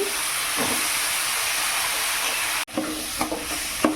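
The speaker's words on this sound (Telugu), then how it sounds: "ఆలుగడ్డని బాగా ఫ్రై చేసుకొని" Potato pieces frying in a pan with ginger-garlic and turmeric, a steady close sizzle and hiss running throughout, with a brief dropout and a few soft scraping stirs near the end.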